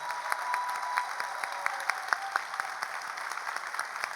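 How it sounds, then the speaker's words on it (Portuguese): An audience at a convention applauds for Suênia, with a steady patter of many hands clapping, fairly close and full, continuing throughout without any voices. "gostaria de pedir uma salva de palmas para a Suênia"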